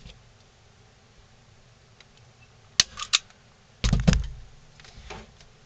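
Material being trimmed on a wooden ventriloquist dummy: a few sharp, close snips and clicks, then a louder rustling cut, over a faint background hiss with no talking.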